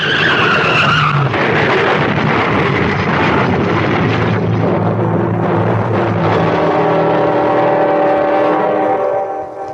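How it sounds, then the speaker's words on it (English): A radio-drama sound effect of a car skidding on a hail-covered road in summer: a loud, sustained tyre screech lasting several seconds, shifting in pitch and fading slightly at the end. "John, that car ahead. It's skidding"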